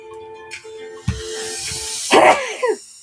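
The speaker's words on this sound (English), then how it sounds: "Every time I sneeze, it takes it out of me." A sharp sneeze bursts out near the middle, followed by a second breathy, sputtering sneeze-like blast, over faint background tones and music.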